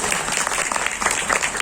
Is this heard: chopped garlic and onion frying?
no